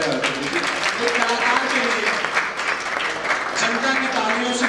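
Audience applause fills an auditorium in a steady, dense wash of clapping, with a voice speaking over it throughout.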